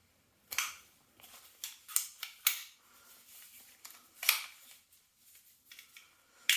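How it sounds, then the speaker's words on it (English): Small plastic and metal clicks and snaps come from working the bolt stop on a KWA T10 airsoft rifle, a handful of sharp, close but fairly quiet clacks spread irregularly over several seconds. "Now getting that bolt stop to work."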